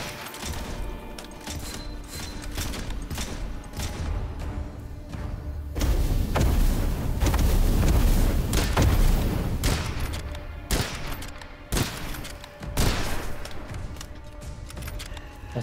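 Guns firing in the video game Witchfire: dense bursts of loud shots and booming thuds, building to a heavy cluster mid-way, then sharper separated blasts.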